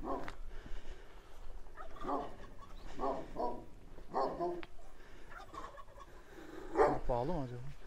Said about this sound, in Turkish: Köpek var lan orada.